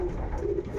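A hen pigeon of the Schellens racing line coos briefly and softly at close range, with no voices over it.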